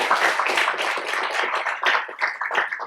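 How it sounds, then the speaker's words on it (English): Audience clapping for panelists at a women-in-engineering career talk, a smallish group whose applause is close and uneven, swelling and tapering in irregular bursts over a few seconds. "A round of applause, please, to our panelists."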